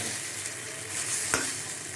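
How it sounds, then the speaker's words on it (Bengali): Young pumpkin-leaf fritters sizzle steadily in hot oil as they are turned over, with a single sharp scrape or clatter partway through against the constant frying hiss. "বড়াগুলোকে একটু উল্টে দিই"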